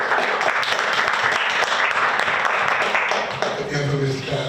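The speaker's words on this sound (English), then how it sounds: "Please give him a round of applause." Applause at a community event for a free tax services hub, a dense burst of clapping that thins toward the end as a voice begins speaking.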